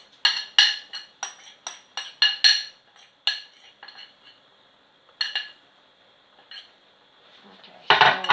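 A metal utensil scrapes and clinks against a cooking pot in quick, irregular strokes, close and crisp, pausing at times before a final louder rattle.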